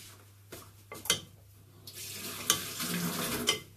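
Panzanella salad being tossed and mixed in a bowl, with wet rustling scrapes and soft clinks rising and falling over a few seconds, close by with no talking.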